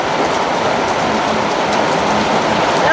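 Steady rain pours down around a house, a dense continuous hiss of drops on surfaces that holds at an even loudness from start to end with no voices.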